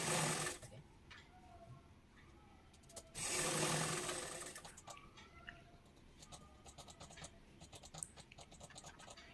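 A sewing machine stitches saree blouse fabric in short, faint bursts of rapid clatter, interspersed with soft scratching and handling noises at close range.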